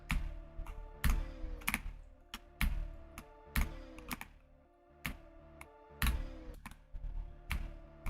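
Typing on a Wooting keyboard during a game stream: sharp, close keystroke clicks in irregular bursts with heavier thumps on larger keys, over faint background sound and no talk.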